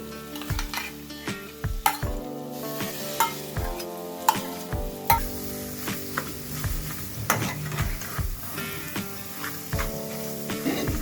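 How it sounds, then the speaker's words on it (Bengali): Boiled potatoes being mixed with Maggi masala in a pan, with repeated scraping and stirring strokes and knocks of a spoon against the metal over a soft sizzle, steady and close throughout. "একটি ম্যাগি মশলা দিয়ে দিব এরপর আগে থেকে সিদ্ধ করে রাখা দুইটা আলু দিয়ে ভালোভাবে মিশিয়ে নিব"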